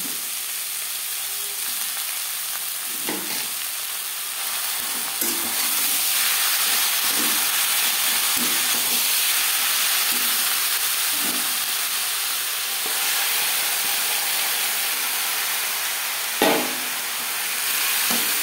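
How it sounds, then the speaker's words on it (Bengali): Mutton sizzles and hisses loudly in a hot pan with onions, a continuous frying crackle broken by periodic scraping and stirring clunks. "এই পর্যায়ে দিয়ে দেব ম্যারিনেট করে রাখা মটন।"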